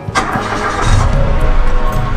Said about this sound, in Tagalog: So narinig nyo rin, no? Ang ganda ng crank ng makina natin